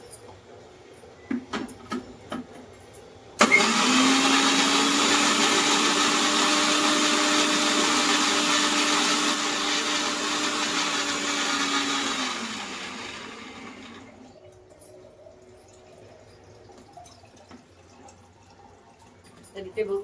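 A mixer grinder roars loudly for about ten seconds grinding a spice paste for Koli-style bombil (Bombay duck) curry, a steady whirring hum that winds down, with quiet clinks and handling noise before and after.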